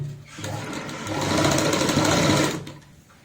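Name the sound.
sewing machine stitching a baby gown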